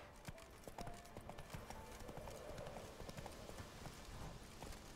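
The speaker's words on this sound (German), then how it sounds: "wir reiten zum Westtor" Hooves clip-clop rapidly as a horse gallops in The Witcher 3: Wild Hunt video game, a steady rhythmic patter of hoofbeats over quiet background ambience.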